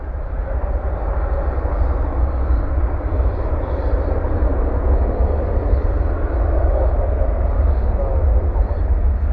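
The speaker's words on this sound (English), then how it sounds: "153 coming in from London Heathrow, landing there on the east side." A jet airliner from London Heathrow lands at night on DFW's far east-side runway 17 left, a steady, distant broadband engine roar holding constant throughout with no breaks.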